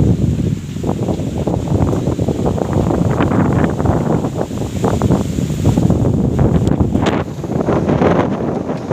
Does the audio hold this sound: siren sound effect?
no